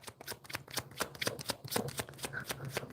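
Tarot cards being shuffled by hand, a quick series of crisp riffling flutters and soft slaps close up, repeating in an uneven rhythm with no talking over it.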